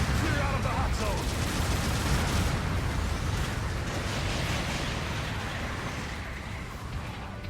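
Incoming artillery rains down in Gundam Battle Operation 2 as a dense barrage of booms and bursts, loud at first and slowly fading, with voices speaking under the din.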